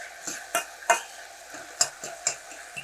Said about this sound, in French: caraméliser l'ail et puis l'oignon